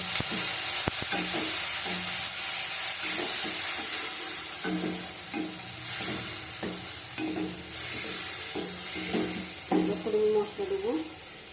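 Tomato paste frying in hot oil in a pan for a rohu fish curry, with steady loud sizzling throughout and repeated scraping strokes of a spatula stirring it, no voices.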